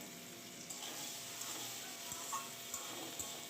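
Taro pieces frying with spice paste in a pan give a faint, steady sizzle, with soft scrapes and taps of stirring throughout.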